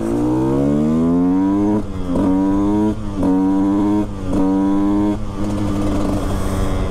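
A KTM 125 SX supermotard motorcycle is warmed up nearby: the engine is revved hard about four times in quick succession, each rev rising and dropping back loudly.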